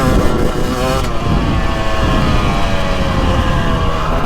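A 2023 Husqvarna TX300 Heritage Edition two-stroke dirt bike is ridden hard, its engine buzzing loud and continuous with a rising, wavering pitch as it pulls, heard close with wind noise and no clear talk.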